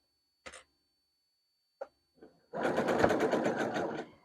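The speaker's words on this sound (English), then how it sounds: "So now I'm just sewing the other sleeve down" A home sewing machine stitches down the sleeve of a vintage poof-sleeve girl's birthday dress, a steady close whirring run of about two seconds after a few short taps and clicks.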